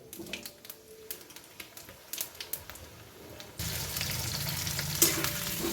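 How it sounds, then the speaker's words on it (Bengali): Potatoes frying in oil with five-spice seeds and bay leaf, light stirring clicks over a soft sizzle that suddenly swells into a loud, dense crackle partway through, no voices present. "আমি আলুটা এখন একটু ভেজে নিচ্ছি"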